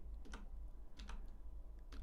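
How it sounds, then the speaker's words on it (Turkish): A few light clicks on a computer keyboard as the Ctrl and minus keys are pressed, three soft, separate taps close by over a quiet room hum. "Hemen yine klavyemizden kontrol tuşuna basılı tutarak eksi"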